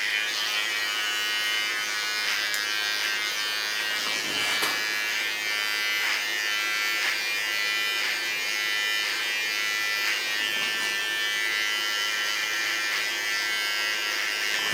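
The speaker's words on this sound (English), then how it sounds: "So I guide the clipper up into the hairs." An electric hair clipper buzzes steadily while cutting hair into a short platinum blonde pixie, a close, continuous high-pitched hum with slight shifts as it moves through the hair.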